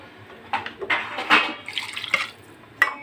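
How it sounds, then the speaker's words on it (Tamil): Water is poured from a vessel into a pot of prawn curry on the stove, giving several short splashing, trickling bursts with brief gaps between them. No one talks. "நான் வந்து இதில் ஒரு சொம்பு தண்ணி ஊற்ற போகிறேன்"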